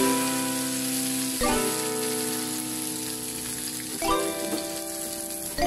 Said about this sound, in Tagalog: Idediretso nyo siya sa frying pan.